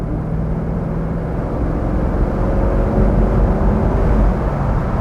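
A black 2000 Corvette with an LS1 V8 accelerates steadily, its engine producing a deep, continuous rumble that stays loud and even throughout with no talking over it.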